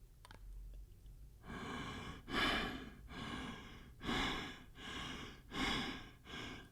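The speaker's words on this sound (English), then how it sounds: "I'm going to use the breathing tube and get that typical sound" Slow, regular breaths drawn and pushed through a tube, each one a hollow, airy rush repeating about every second, close and fairly quiet.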